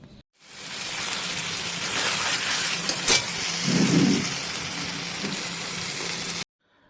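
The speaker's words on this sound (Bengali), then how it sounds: "এবার হাই ফ্লেমেই এখানে কিন্তু কষা চলছে" Jackfruit and shrimp masala fries in a pan over a high flame, giving a steady close-up sizzle and hiss that swells briefly into louder bubbling midway, then cuts off abruptly.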